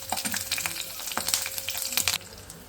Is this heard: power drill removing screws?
no